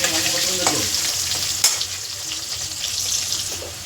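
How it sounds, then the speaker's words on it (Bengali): Salted potatoes fry in hot oil, a loud continuous sizzle up close with stirring scrapes and one sharp clink. "তো আলুটা ভালো করে ভাজবো লাল করে"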